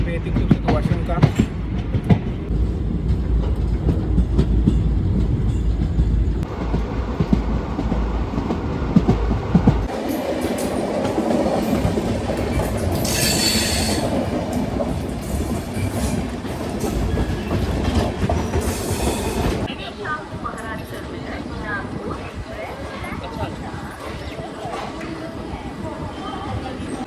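A passenger train pulls into Akola Junction station with steady rumbling and clickety-clack of wheels on rail joints, loud and close, with a shift in character partway through as it slows, and voices faintly around.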